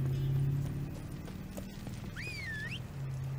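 A horse's hooves clip-clop steadily at a walk in the open-world game The Witcher 3, with a brief whinny partway through and no one talking over it.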